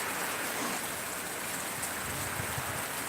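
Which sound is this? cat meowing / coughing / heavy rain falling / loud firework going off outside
heavy rain falling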